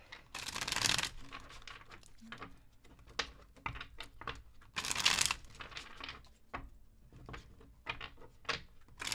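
Tarot cards being shuffled during a reading, with bursts of riffling and crisp card slaps separated by softer shuffling and tapping, fairly close and with no talk.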